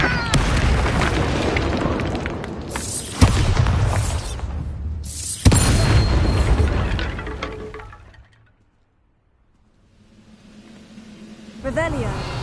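Bombarda explosion spell cast in Hogwarts Legacy, with heavy booming blasts and sharp bursts over loud voiced game combat, then a brief near-silence before the noise picks up again.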